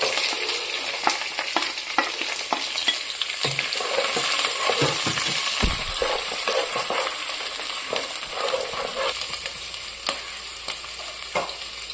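Curry leaves, garlic, ginger and green chillies fry in oil with golden coconut pieces for a Kerala-style beef fry, giving a steady loud sizzle and crackle with occasional stirring scrapes, close by and with no talking.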